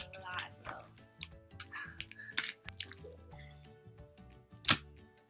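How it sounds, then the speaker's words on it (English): Glossy slime is squished and played with, giving sticky clicks and small wet pops as bubbles form and burst, close up, with a few louder snaps standing out. "Oh my gosh, this slime is like so good at making bubbles."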